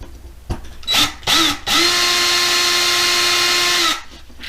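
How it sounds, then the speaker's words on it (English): A power drill whirs in two short bursts, then runs steadily for a couple of seconds before winding down, loud and close, drilling out a post on a Hot Wheels toy car. "So all you want to do is drill it out enough"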